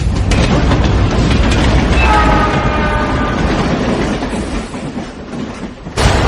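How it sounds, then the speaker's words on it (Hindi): A train rolls loudly along the railway tracks, its steady rumble and wheel clatter continuous and close throughout, with a faint high squeal in the middle. "मैंने खुद ही को घसीटा और पटरी के किनारे रेंग कर जब गया, तब तक में ट्रेन निकल रही थी।"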